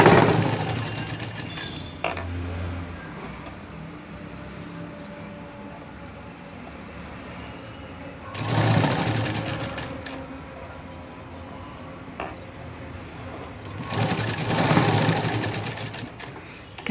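A sewing machine runs long loose basting stitches across the back of a blouse in bursts of rapid mechanical whirring at about 0, 8.5 and 14 seconds, with quieter pauses between runs and no speech over the stitching.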